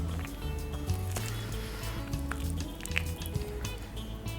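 Honeycomb is squeezed by hand, producing faint wet squishing and dripping sounds over a low steady hum, close up with no speech.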